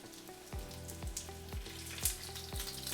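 Pieces of sheepshead fish fry quietly in oil, a soft bubbling sizzle broken by regular light taps or clicks about every half second; faint and close, with no talking.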